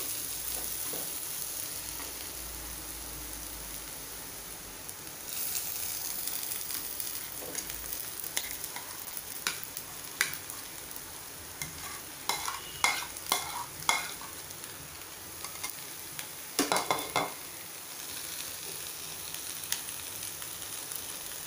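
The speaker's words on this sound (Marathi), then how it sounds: "आता आपल्याला यात पनीर टाकायचं आहे।" Crumbled paneer made from split milk frying in a spiced pan, a soft sizzle under repeated scraping stirs that grow busier partway through, with no voices.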